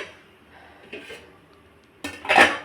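A metal lid clatters onto a cooking pot of South Indian potato kootu, a sharp clanking burst following soft, faint kitchen sounds.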